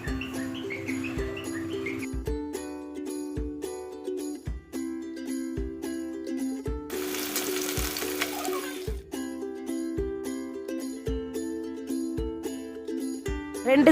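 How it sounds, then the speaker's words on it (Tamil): Sardines fry in hot oil in a kadai over moderate heat, giving a soft sizzle that swells into a loud, crackling burst midway, over steady background music with no talking. "சூடானதுக்கு பிறகு வந்து கொஞ்சமாக மிதமான சூட்டில் வச்சு பொரிய விட்டுருங்க."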